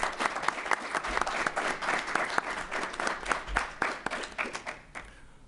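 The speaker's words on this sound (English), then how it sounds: "Let's please give a round of applause for Aquil Jones." Audience applause at a scholarship ball, a moderately distant round of clapping with uneven bursts that gradually thins out toward the end.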